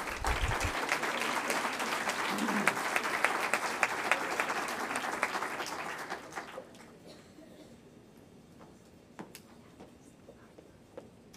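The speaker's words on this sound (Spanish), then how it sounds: "Un aplauso para ella." Audience applause at an entrepreneurship award ceremony in Fuenlabrada, dense and steady for about six seconds, then fading into a quiet room with a few scattered claps.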